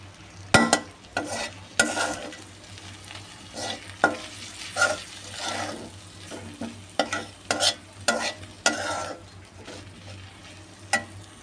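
Powdered spices frying and being stirred together with taro and prawns in a pan, repeated scraping strokes in an irregular rhythm over a continuous sizzle, close and clear.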